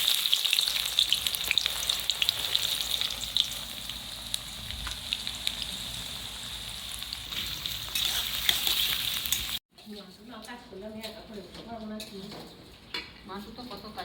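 Onions for bhaji sizzle loudly and continuously in a pan during Santhali village cooking, with occasional utensil clinks, before cutting abruptly to a quieter, voiced stretch near the end.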